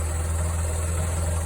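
A 1986 Ford Econoline van's 300 cubic inch inline-six engine idles, a steady low rumble with an even, continuous hum, heard close and alone without talk.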